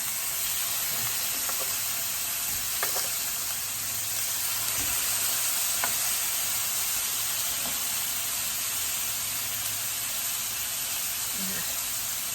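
Steady sizzling and hissing of pork steak frying in a hot pan, continuous and close, with faint clinks and occasional quiet voices in the background.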